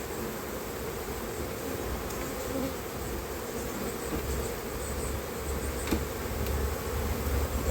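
Honeybees buzz around an open hive as frames are worked, a dense, continuous drone close by, with a few sharper clicks and knocks breaking through near the end.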